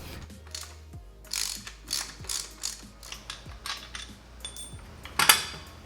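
A ratchet loosens the alternator bolts on a blown LS2 V8 engine, making rapid pawl clicks in short bursts followed by a metallic clink near the end, close up with no talking.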